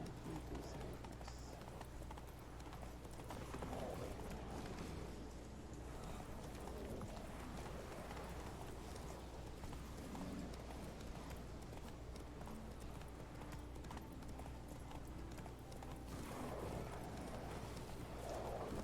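Horse hooves clip-clopping in the video game Witcher 3, a steady rhythmic trot heard fairly faintly over a low background hum.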